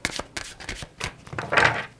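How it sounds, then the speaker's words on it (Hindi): Tarot cards being shuffled by hand, with a few cards spilling out, giving brisk papery riffles and slaps in quick bursts, close and moderately loud, with a denser flurry near the end. "बहुत कार्ड्स गिर रहे हैं."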